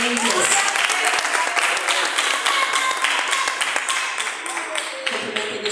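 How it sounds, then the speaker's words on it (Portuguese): Church congregation applauding during an evening prayer service, dense steady clapping from many hands filling the room, with voices over it. "E as palmas louvam e exaltam o nome do Senhor."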